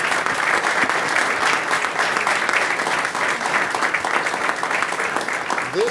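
A council meeting audience in Portsmouth, Virginia applauds, giving a continuous, even round of many hands clapping at close range, holding steady for the whole stretch.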